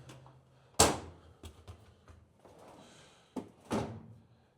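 A drawer in a small home motorcycle workshop slides open or shut with two sharp, close knocks a few seconds apart, separated by quieter rattles and shuffling.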